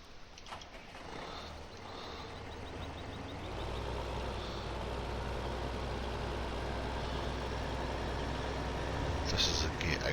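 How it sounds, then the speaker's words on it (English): The most powerful and fastest tractor in a farming video game drives off, its low engine drone swelling after a few seconds and then holding steady, with someone talking over it. "I'm going to jump into the most powerful tractor, which is the fastest one"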